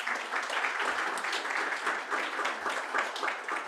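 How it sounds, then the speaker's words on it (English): Soft, fairly distant audience applause at a museum meeting, an even patter of many hands clapping for a few seconds with no one speaking. "let's give them a round of applause."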